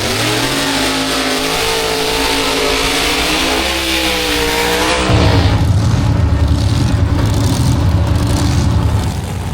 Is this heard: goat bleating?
no